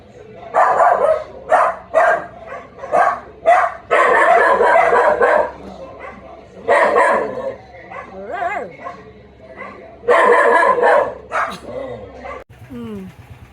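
Dog barking in loud, close bursts of yips and barks with whimpering between, mixed with people talking nearby.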